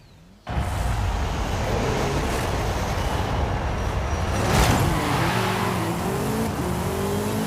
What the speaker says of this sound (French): On a pris un buggy, j'ai pris le buggy qui était la voiture de cette saison.